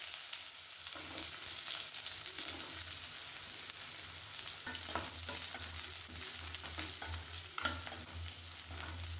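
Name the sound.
frying onions, dried chilies, garlic and curry leaves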